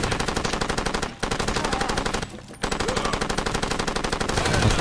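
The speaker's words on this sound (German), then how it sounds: "So schießen die auf uns." Automatic rifle fire from enemy fighters in the video game Far Cry 2 hammers out in rapid, loud, continuous bursts, with two short pauses and no talking.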